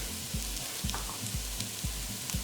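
Chicken hits a pan of fried dried red chillies and sizzles loudly and steadily, with a regular rhythm of soft stirring scrapes beneath the hiss and no voices.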